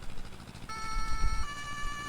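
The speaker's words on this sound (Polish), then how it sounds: "No i tutaj syreny włączone." A police car siren in a video game wails in a steady electronic tone starting partway through, moderately loud over a low engine rumble.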